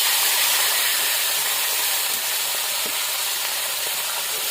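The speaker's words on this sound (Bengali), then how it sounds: "তেল গরম হয়ে গেছে, এখন আমি মাছ ছেড়ে দেবো।" Fresh river fish dropped into hot oil in a heated kadai, a loud, dense, unbroken sizzle and hiss filling the scene from start to finish at close range.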